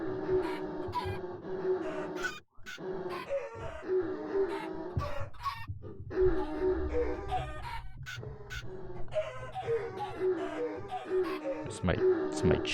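Repetitive clucking chicken sound effects play from a video game during a stream, a looping patterned series of short clucks, with a person talking over it.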